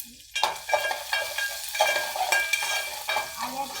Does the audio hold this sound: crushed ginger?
yes